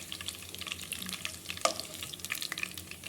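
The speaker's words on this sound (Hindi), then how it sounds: "हम लो फ्लेम पे ही इसको इस तरह से फ्राई करेंगे ताकि अंदर से भी अच्छी तरह से पक जाए" Seekh kebabs frying in a pan over a low flame, giving a steady, soft sizzle with faint crackles and one brief sharper pop near the middle.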